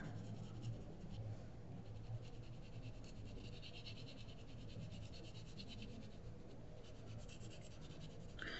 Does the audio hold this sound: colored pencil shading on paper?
yes